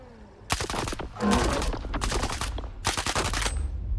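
Bursts of rapid fire from a Vintorez rifle loaded with armor-piercing rounds in the game STALKER 2, several loud sustained volleys separated by brief pauses, close and dense with no talk over them.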